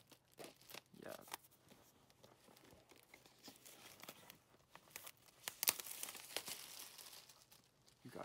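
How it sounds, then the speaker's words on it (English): Thin plastic protective film peeled off a new MacBook, crinkling and tearing in scattered bursts with a louder crackly stretch near the end, close and fairly quiet with no talking. "it's always the most satisfying part when you peel plastic off"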